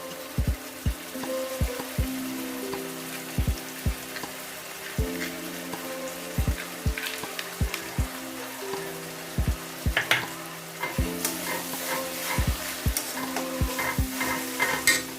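Green chilli paste frying in a pan alongside ginger and garlic paste, a steady close sizzle broken by rhythmic spoon taps and stirring scrapes, with no voices.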